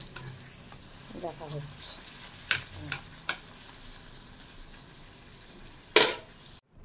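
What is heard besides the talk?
luchi frying in oil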